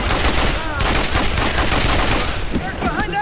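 Loud, close AK rifle fire from Mercenaries 2: World in Flames rattles in a continuous rapid burst, with dense overlapping shots and a brief pause near the end.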